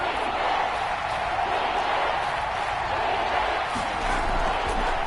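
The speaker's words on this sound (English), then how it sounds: "The crowd getting into it as we come up on a big third down." Stadium crowd noise in Madden NFL 22 football game ahead of a big third down: a steady, dense roar of a large crowd, loud and continuous throughout with no talk over it.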